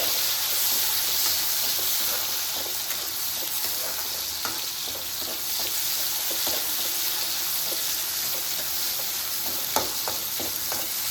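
Small tomato frying in oil in a pan while cooking green chicken sukha, a steady continuous sizzle with light stirring clicks and scrapes, close and alone without talk.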